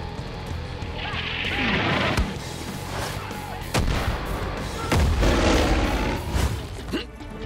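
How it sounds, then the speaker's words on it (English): Far Cry 5 flyby bombing run: heavy booming explosions and gunfire-like blasts hit repeatedly over several seconds, loud and close, with rumbling low-end aftermath between impacts. "I'm gonna mark this target for Nick's flyby bombing run"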